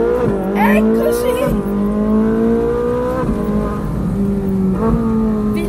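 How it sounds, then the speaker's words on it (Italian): A Ferrari 458 Spider on the Almeria circuit roars loud and close, its engine climbing through repeated rising revs with sharp drops between gear changes. "Vi lascio al rombo della mitica Ferrari!"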